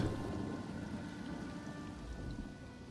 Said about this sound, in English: So, thundering, as you can hear in the background.